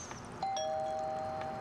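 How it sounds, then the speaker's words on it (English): A doorbell rings once in the video game Little Misfortune, a clear sustained chime tone that holds and slowly fades, heard alone without talk. "I'm gonna ring the bell if I can."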